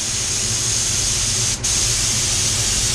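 An HVLP spray gun (Walcom Kombat Slim) sprays paint in a steady, close, loud hiss lasting the whole time, with one very brief break near the middle.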